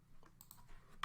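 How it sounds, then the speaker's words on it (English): Light taps on a computer keyboard while entering a Linux command-line instruction, a few soft scattered keystrokes ending in one sharper, louder click, quiet and close with no talking. "To do this, we're going to type"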